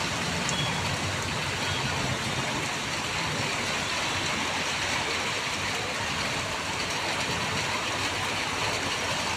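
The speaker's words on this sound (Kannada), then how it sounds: "ನೋಡಿ ಫ್ರೆಂಡ್ಸ್ ಒಟ್ಟ ಮಳೆ ಆಗ್ತಾ ಇದೆ" Steady first rain of the season in Belagavi falling heavily, a dense continuous hiss and patter with no pauses throughout.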